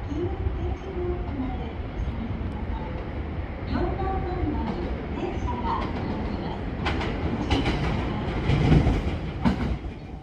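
A rapid train for Himeji runs at Kobe station at night, a steady rolling rumble with clicking rail joints and brief squeals, while station announcements chime in the background.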